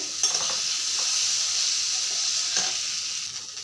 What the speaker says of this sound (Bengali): আমার মশলাগুলো ভালো থেকে ভাজা হয়ে গেছে